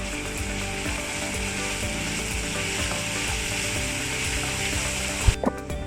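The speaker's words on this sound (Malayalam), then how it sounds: "ക്യാപ്സിക്കം കൂടി ആഡ് ചെയ്യാം. നന്നായിട്ടൊന്ന് സോട്ട് ചെയ്തെടുക്കുക." Capsicum sautés in a hot pan, a steady loud sizzle filling the whole stretch, with a couple of sharp utensil knocks near the end and no voices.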